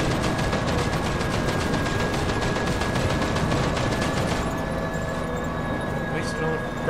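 Rapid machine-gun fire in the Mercenaries 2: World In Flames game, a steady loud stream of evenly spaced shots that thins out after a few seconds, with vehicle rumble beneath and a voice talking over it.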